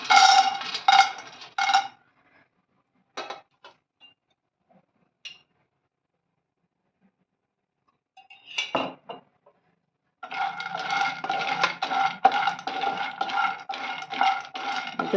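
Almonds tipped into a pan of ghee for roasting while making dry fruit laddu: bursts of clinking and rattling against metal with quiet gaps between, then a longer stretch of steady scraping and clattering.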